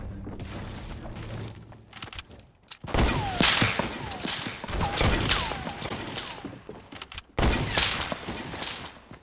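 Sniper gunfire in the video game Fortnite, several sharp loud shots with ringing tails amid ongoing game noise, with a brief near-silent gap before the later bursts.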